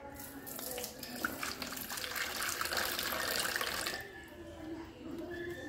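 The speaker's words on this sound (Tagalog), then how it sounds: "Lalagyan ko ng tubig para makainom" Water runs from a tap and pours into a pet's drinking container in a steady splashing stream, then softens and tapers toward the end, with a voice faintly present.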